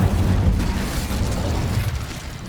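A fire spell cast in Hogwarts Legacy gives a loud, sustained whooshing boom with a deep rumbling body, dense and continuous across the whole moment with no voices.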